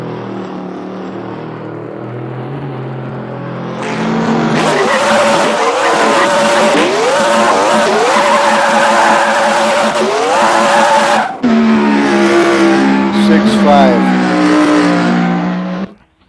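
Two drag racing cars launch head to head, engines revving higher through shifts with tire squeal, loud and close, with a brief dip before a second hard pull that cuts off abruptly.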